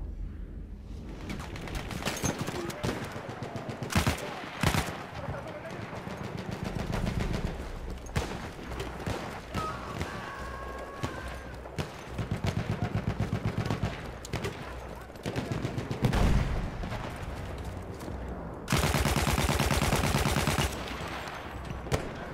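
Gunfire in the video game Battlefield 1 crackles in rapid bursts and single sharp shots, with a long dense stretch of automatic fire near the end and some game noise between.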